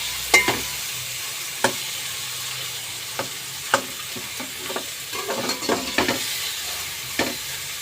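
Tomatoes fry and get stirred in a pan, a steady close sizzle broken by a series of sharp scraping clicks from the utensil at irregular intervals, with no talking.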